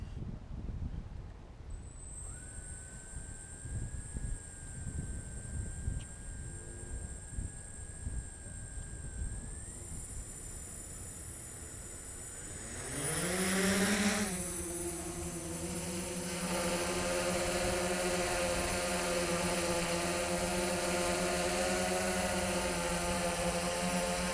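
A DJI S900 drone whines with a high steady tone, then its motors swell into a loud, rich, even droning buzz as it lifts and holds position, continuing unbroken to the end.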